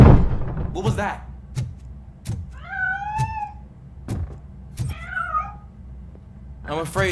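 A cat meowing in the RoboCop: Rogue City video game, two clear drawn-out meows between sharp metallic footstep clanks, close and distinct over a quiet background.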